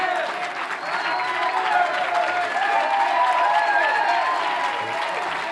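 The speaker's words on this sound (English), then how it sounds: "Everybody, applaud both candidates," Sustained audience applause at the close of a televised U.S. House District 3 congressional debate, a dense, steady wash of many hands clapping throughout, with some crowd noise mixed in.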